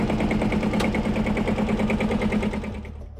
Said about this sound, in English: featured a massive single-cylinder two-stroke diesel engine of about 6 liters that produced its distinctive thump-thump sound